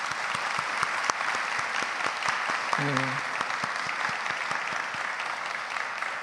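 A congregation claps for teachers at the opening worship service of a church faith retreat, a steady, fairly distant round of applause throughout, with a brief spoken word partway through.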